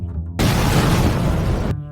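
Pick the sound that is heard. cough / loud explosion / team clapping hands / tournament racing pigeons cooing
loud explosion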